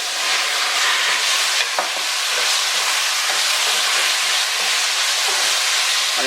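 Seasoned pork hits melted caramelized sugar in a hot pot for a breadfruit stew and sizzles loudly and continuously, a steady close hiss with slight stirring flutters and no talking.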